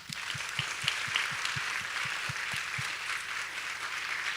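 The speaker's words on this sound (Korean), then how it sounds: "우리 장로님들을 위해서 힘내시라고 힘차게 박수 한번." A congregation claps during an evening revival service at a church. The clapping is a steady, hearty wash, and a low rhythmic beat of about four per second pulses underneath it throughout.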